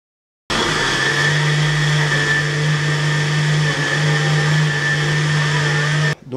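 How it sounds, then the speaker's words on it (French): A blender whirs steadily as it purées banana, apple and coconut milk into a smoothie, a loud, constant motor drone with a strong low hum that runs unbroken for about six seconds before cutting off abruptly. "Et vous mettez tout ça au blender."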